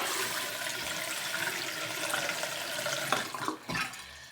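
Faucet in an RV running after a cartridge replacement, a steady close rush of water into a sink, ending with a few brief splashy clunks as the flow is handled.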